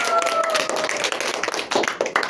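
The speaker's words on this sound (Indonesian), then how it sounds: "beri tepuk tangan buat Mbak Ica." Students in a classroom microteaching lesson on the human respiratory system clap briefly. The close, busy patter of hands is mixed with some voices.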